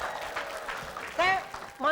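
Applause from a studio audience on an Indonesian TV show, a moderate, steady clapping wash, with a voice speaking over it in short bursts.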